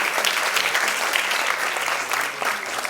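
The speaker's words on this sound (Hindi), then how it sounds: "तालियों से एक बार फिर से अभिनंदन करें।" Dense, steady applause from an audience at a cultural festival programme, many hands clapping at once and filling the whole stretch without a break.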